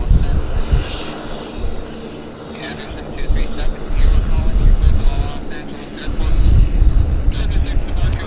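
An airliner inbound from Gatwick approaches Vancouver Airport, its loud broadband jet engine roar swelling and sustained throughout, with wind buffeting the microphone.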